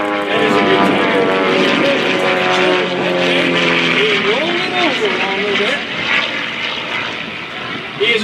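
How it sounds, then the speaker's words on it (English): An aerobatic propeller plane's engine drones loudly throughout at an airshow in Leesburg, its pitch rising and bending as it climbs into a lomcovák tumbling maneuver, with an announcer talking over it. "Now keep an eye on the pits as it climbs here and enters a Lumshaback where Rooster tumbles the plane end over end"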